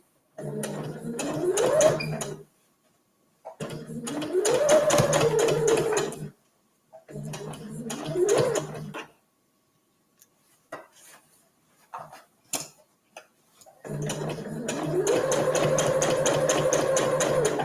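Sewing machine stitching the side seams of a fabric gift bag, running in several bursts of fast, rhythmic mechanical chatter separated by pauses, with quiet handling clicks in the gaps before a final longer run.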